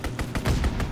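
Rapid bursts of aircraft strafing gunfire in Call of Duty WW2, a close, loud string of rhythmic cracking shots, roughly five or six evenly spaced thumps within a second.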